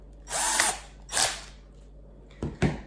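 A power drill drives screws in to fit a socket onto a Gardiner brush in a workshop, with two longer whirring bursts followed by two short, sharp tightening spurts, close and loud, with no talk.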